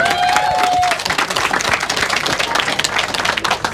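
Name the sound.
audience applause welcoming TM Logan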